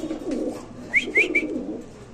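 A blue satin pigeon gives a low, close coo, followed by three quick higher chirps from nearby birds, with no one speaking.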